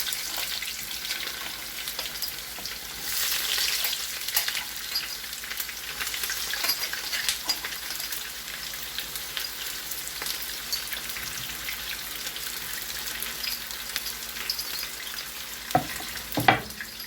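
Sliced onions frying in a pan as a steady, close, rain-like sizzle with occasional soft crackles and a couple of sharper clinks near the end, no talk.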